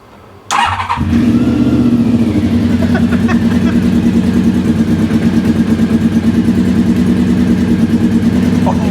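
An engine cranks over and catches with the choke on, then settles into a loud, steady running idle with a fast regular pulse that continues to the end.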